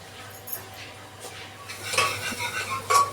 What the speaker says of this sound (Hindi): प्याज ब्राउन होने में थोड़ा टाइम लगेगा।